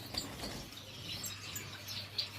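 Albino Bengalese finches in a breeding cage giving faint, high, short chirps and tweets scattered over a few seconds against a quiet low hum.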